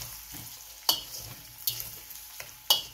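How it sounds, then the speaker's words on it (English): Chili chicken with green onions being stirred in a sizzling pan, three sharp scrapes of the utensil over a steady low fry, close and clear with no talking. "we're gonna go ahead and give it a good mix"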